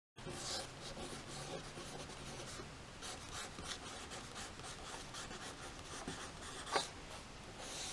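Pastel being drawn in lines across sketchbook paper, a steady scratchy rubbing that continues throughout with varying pressure, close and fairly quiet, with one brief sharper tap near the end.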